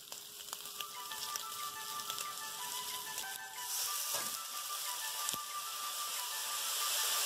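Butterfly-pressed shrimp balls fry steadily in a pan, a continuous close hiss and sizzle with faint crackles throughout, without speech.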